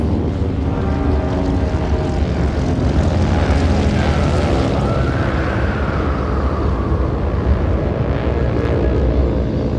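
Ten propeller engines on a large Fokker plane drone together in a loud, steady, continuous roar with a layered, throbbing low rumble and a slight rising whine midway, no voices.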